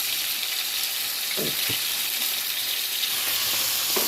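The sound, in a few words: stirring ground beef and vegetables frying with sauces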